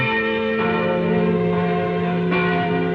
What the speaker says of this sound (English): the bells were ringing